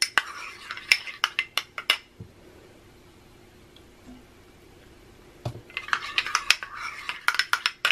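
A spoon clinks and scrapes quickly against a bowl while stirring warm milk into a capirotada mixture, bursts of rapid tapping up close, a quiet pause in the middle, then brisk stirring again.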